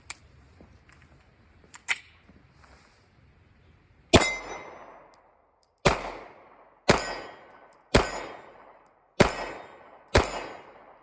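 Six sharp pistol reports from 9mm 124-grain hollow point rounds ring out one after another at roughly one-second intervals, each crack decaying quickly, following a few faint clicks and handling noises.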